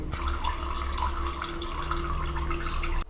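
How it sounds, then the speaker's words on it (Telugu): Water runs from a tap at a western-style wash basin after the supply is turned on, a steady, close, even rush that continues without a break until it cuts off at the end. "గైస్ చూడండి, వాటర్ సప్లై అనేది ఆన్ చేశాను."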